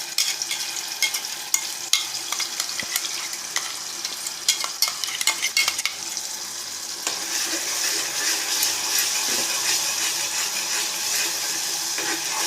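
Ground masala for chhole stirred and frying in a pan, with a steady sizzle and repeated scraping strokes of a spoon across the pan, busier strokes in the first half before the frying hiss settles in.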